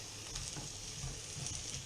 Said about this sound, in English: if I put these in, they should start sizzling